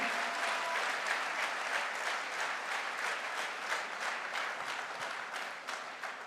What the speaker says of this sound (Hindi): अरे बड़ी ठंडी ठंडी सी तालियां बज रही है यार।